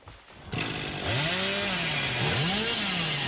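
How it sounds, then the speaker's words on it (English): In Dead by Daylight, the Hillbilly's chainsaw starts up and revs hard, its whining engine pitch rising and falling in sweeping surges. Loud, close and continuous, with no voices. "when I'm using this chainsaw, I can barely feel the overheat mechanic"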